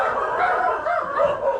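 Dogs kept outside on the stairs of a home bark and yip continuously at moderate distance, a steady run of overlapping calls with no clear gaps between them.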